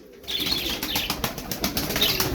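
A burst of rapid wing flapping from Turkish tumbler (Taklacı) pigeons fills the clip, a dense fluttering clatter that starts abruptly and continues, close and loud.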